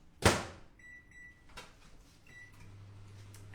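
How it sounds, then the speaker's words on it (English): A microwave oven reheating rice for about a minute, with a loud clunk of the door at the start, a few short beeps, then a steady low hum running alone toward the end. "I'm just going to give it about a minute in the microwave just to bring it back to hot."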